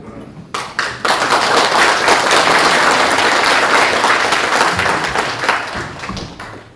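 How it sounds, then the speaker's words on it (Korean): Sustained applause from an audience at a political opening ceremony, loud and dense after a couple of brief early claps, fading slightly near the end. "박수를 저렇게 선봉해서 쳐주시니까"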